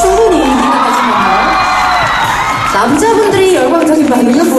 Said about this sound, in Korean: 여자분들의 환호성은 충분히 기대하신 건가요?